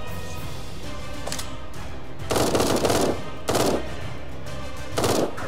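Defensive turrets in the video game Eden Star fire at enemies in several short, sharp rattling bursts over a steady background hum, loud and close, with no talk.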